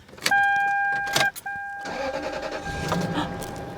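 A Lexus LS430 cranks and fires up on a fresh battery, a short whirring starter burst with a high whine, a brief pause, then a second crank that catches into a steady, close idle.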